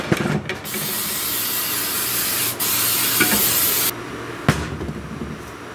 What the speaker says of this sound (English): I'm spraying down the fan blades.